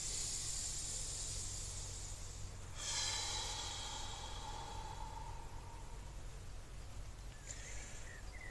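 Slow breathwork inhales and exhales come as soft, airy rushes of breath, close and quiet, with a stronger burst near the middle and a fainter one near the end.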